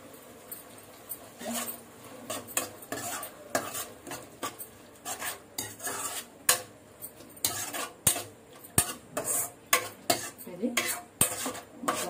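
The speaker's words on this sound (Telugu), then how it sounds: "మొత్తం కూడా కలుపుకోవాలి." Veg manchurian stirred and mixed in a pan with a spoon: repeated sharp metallic scrapes and clinks in an irregular rhythm, close and fairly quiet, with no talking.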